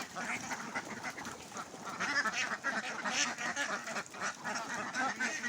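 A flock of about a hundred farm ducks let out of their pen toward a pond, quacking continuously in an overlapping, busy chorus close to the microphone.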